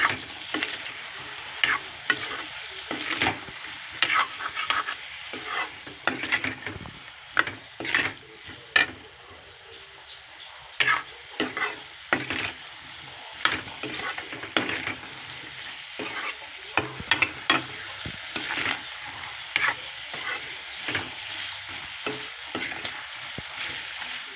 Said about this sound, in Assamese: এতিয়া আকৌ লৰাই দিছোঁ।